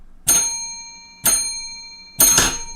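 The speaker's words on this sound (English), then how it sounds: "This isn't a failure bell, this is a victory bell." A bell strikes three times at roughly one-second intervals, each ring bright and metallic with a sustained tone that fades before the next strike; no talking.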